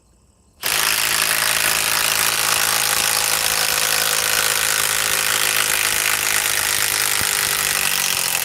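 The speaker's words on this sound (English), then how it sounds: "now let's try to remove it with the compact M18 fuel 3/8 impact wrench with the forged battery" A compact M18 Fuel 3/8 impact wrench with a forged battery starts abruptly after a moment of quiet and then hammers loudly and continuously up close for several seconds while removing a part.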